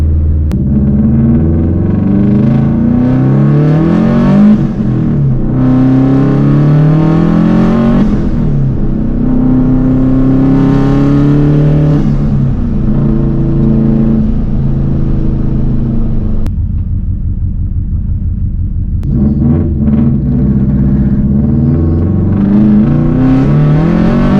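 Subaru 2.5RS with a WRX engine swap, running rough as if on three cylinders, its engine revved repeatedly with rising and falling pitch, loud and close, with a short drop in between and no talk.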